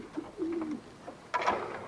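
Pet birds kept for breeding coo softly in a short, low call, followed by a brief rustle, with no voices present.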